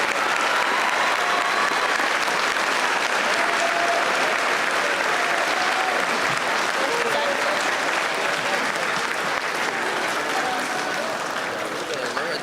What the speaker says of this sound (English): Can we do another round of applause for everybody that is committed?